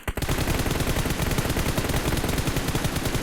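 Rapid automatic gunfire from the video game PUBG Mobile rattles in a dense, continuous loud burst, close up with no talk over it.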